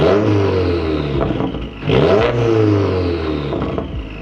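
A Subaru WRX fitted with a Tomei titanium catback exhaust revs hard, rising and falling through two strong pulls, loud and close with no talking.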